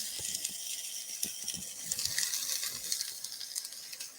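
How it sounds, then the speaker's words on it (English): Chopped onion sauteing in avocado oil in a pan, giving a steady soft hiss and sizzle with light irregular pattering crackles throughout. "Just gonna go ahead and we're gonna saute the onion."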